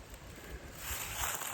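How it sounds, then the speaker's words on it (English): Distant traffic on the I-90 highway makes a steady, faint broadband roar, heard from a wooded hiking trail in fall with no voices over it. "you can hear the traffic from I-90 behind me"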